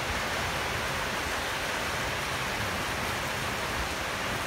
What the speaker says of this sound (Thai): เวลาประมาณบ่ายสองโมงฝนตกหนัก